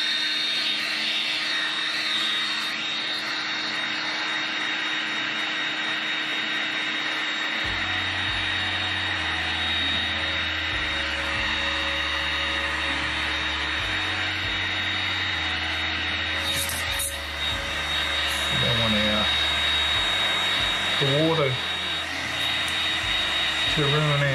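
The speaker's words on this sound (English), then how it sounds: "So we'll give that a dry off with a heat gun, not getting it too close." Heat gun blowing hot air over wood during Lichtenberg wood-burning work, a steady loud whooshing fan hum that deepens when a low motor tone kicks in partway, running continuously with slight pitch shifts.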